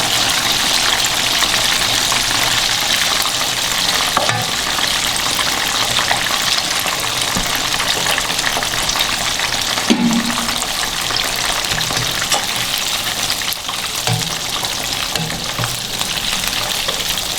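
Fish pieces fry in a pan of hot oil with a loud, continuous sizzle throughout, with occasional soft knocks of a utensil in the pan.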